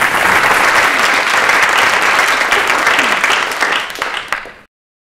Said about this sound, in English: round of applause for brave people.